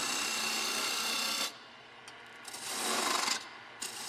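Lathe tool cutting a rotating wooden peppermill, a steady broadband rasping hiss that drops away midway, then returns in shorter scraping passes, close and alone.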